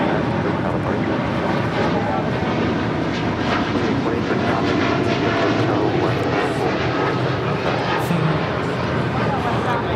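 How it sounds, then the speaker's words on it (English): A United Airlines Boeing 787-10 Dreamliner takes off for Chicago with a loud, sustained jet engine roar, a steady broadband thunder close at hand that stays strong throughout, with faint voices underneath. "This is United Airlines 1897 taking off to Chicago here on a 787-10 Dreamliner"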